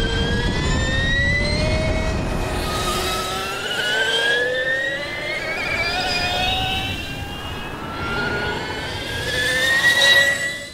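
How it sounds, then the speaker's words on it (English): Energica electric touring motorcycle motor spinning up with a rising, shrill sci-fi whine, several climbing tones sweeping upward over a broad rushing roar, loud and close throughout with no talking. "It's almost sci-fi in this high-pitched, shrill squeal as the electric motor spins up."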